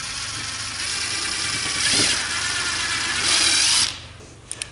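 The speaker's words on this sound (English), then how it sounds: "make sure that you drill before you put your screw in." A power drill runs continuously while boring a pilot hole in wood before a screw goes in for a homemade dry-erase board easel, with a whining, rising pitch that ends abruptly, followed by a couple of small knocks.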